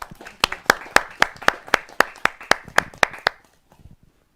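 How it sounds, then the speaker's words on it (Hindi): An audience at a Hindi poetry open mic claps in steady unison to welcome a poet: about a dozen sharp, evenly spaced claps that then stop abruptly into quiet. "बहुत तालियों के साथ अभिनंदन और स्वागत किया जाए"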